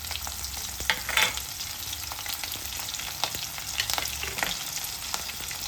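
Whole spices, cumin and chopped chili pieces frying in hot oil for dhaba-style dal fry, a steady close sizzle with scattered pops and light stirring scrapes, no voices.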